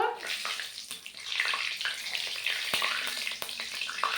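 Whole spices (cinnamon sticks, cardamom, cloves, bay leaves) frying in hot oil in a pan for mutton curry, with a steady close sizzle and occasional scraping clicks of a spatula stirring.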